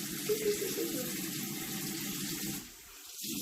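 A makeup brush is rinsed under a running tap, with a steady splashing stream of water that briefly softens near the end before resuming.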